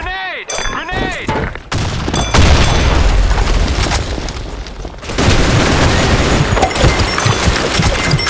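Grenade blast in the BlackShot shooter during a clan war match, a heavy booming burst amid rapid gunfire that keeps roaring loud and dense for several seconds, with distant voices underneath.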